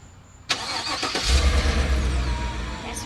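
A 2018 Chevrolet Silverado on its stock exhaust fires up with a sharp start and then revs hard, a loud, deep rumble that swells and holds close by.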